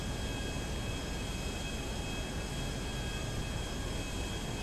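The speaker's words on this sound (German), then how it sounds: "weil unser Flugzeug geht ja relativ schnell" A fast airplane flies in Grand Theft Auto V, making a steady, loud, unbroken engine roar with a high whine for the whole stretch and no voices.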